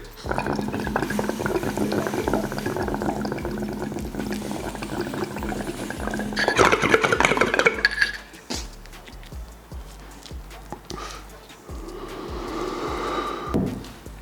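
Bong water bubbling hard as a bowl of weed is ripped, a close, steady gurgling rumble for several seconds that cuts off sharply, followed by quieter breathy sounds.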